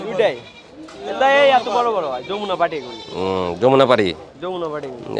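Goats bleat in wavering, nasal cries at a village market, several calls close by, mixed with people talking nearby.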